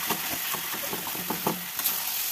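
Spiced potato bhaji sautés in oil in a pan, a steady close sizzle broken by repeated scraping stirs, with no voices.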